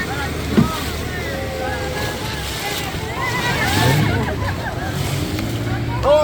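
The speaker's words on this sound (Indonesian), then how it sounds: "Ini perahu-perahu yang baru datang dari tengah laut, habis ngambil ikan sama benur." Motorised fishing boats come in from the open sea at Santolo Beach, their engines rumbling steadily amid wind and surf, with people talking over the noise.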